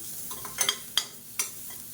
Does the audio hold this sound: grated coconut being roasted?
yes